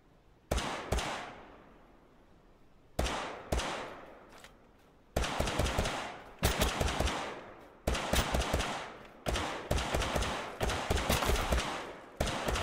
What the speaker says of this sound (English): guess the P90 only fires in semi-automatic